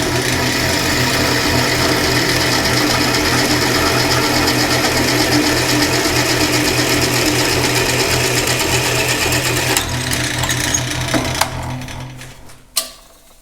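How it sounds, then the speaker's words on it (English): A drill press whirs steadily for several seconds drilling a grease-fitting hole in metal, then winds down with a few metallic clicks and a sharp clack at the end. "I'm drilling the hole for the grease fitting."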